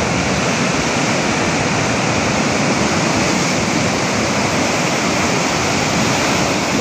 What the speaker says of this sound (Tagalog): makita natin kung gaano kalakas ang Suba Itakyan